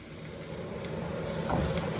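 Chili and garlic sizzle steadily in a hot pan, a close, continuous crackling fry that grows a little louder toward the end, with no talking.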